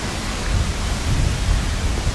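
Rain falls outdoors in Iceland as a steady, dense hiss of broadband noise, close and fairly loud, with a low rumble underneath and no voices.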